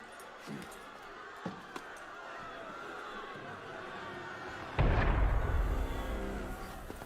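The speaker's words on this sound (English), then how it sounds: "That was cannon fire. Sometimes opportunity sounds a lot like cannon fire." Cannon fire booms in Assassin's Creed Unity, a heavy blast arriving midway and rolling on with a long rumbling decay, after a few lighter distant thumps and under a low ambient background.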